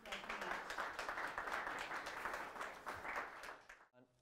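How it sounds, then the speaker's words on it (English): Workshop audience applauds at a zero-knowledge SNARKs session, a steady wash of many hands clapping for about four seconds before it cuts off, moderately distant and fairly quiet. "Round of applause for these guys."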